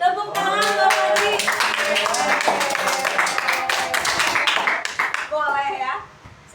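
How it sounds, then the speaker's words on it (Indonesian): Classroom clapping for a student during a maths lesson, a burst of distinct near handclaps from a small group with voices talking over them, fading out toward the end. "Tepuk tangan buat Fadli."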